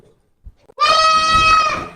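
A single loud goat bleat, drawn out and wavering for about a second, close by, after a brief soft rustle.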